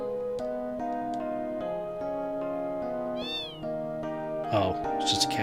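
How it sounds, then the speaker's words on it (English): A cat meows in the Final Fantasy VIII game on PS1, one short meow heard over steady game music, followed by brighter chiming tones. "Oh, it's just a cat."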